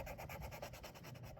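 Orange and yellow colored pencils rub across paper in quick, even back-and-forth strokes, soft and close, a steady scratchy shading rhythm with no talking.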